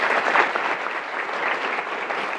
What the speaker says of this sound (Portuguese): pediam o vosso aplauso para todos os oradores